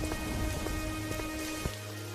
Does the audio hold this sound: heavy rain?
yes